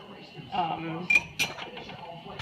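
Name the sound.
transferring hot alcapurria filling from pot into a bowl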